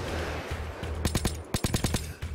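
Sniper and automatic gunfire in the video game Payday 2, a quick series of loud, sharp shots bunched into a rapid burst near the end over steady game background noise.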